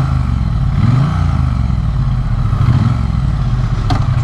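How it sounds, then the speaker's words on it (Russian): A 2023 Triumph Bonneville T100 motorcycle idles at about 1000 rpm, a steady low engine rumble with a slight uneven pulse, close and loud throughout with no talk. "Тысяча оборотов на холостых. Послушайте."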